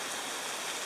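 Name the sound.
rain falling on a hiking trail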